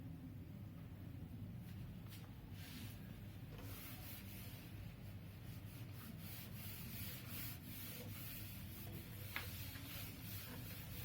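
A teacher wipes writing off a classroom board, making a continuous soft rubbing and scrubbing that runs steadily for several seconds at close range.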